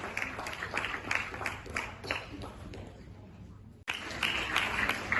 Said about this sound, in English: Can we have a loud round of applause for all of you and good food.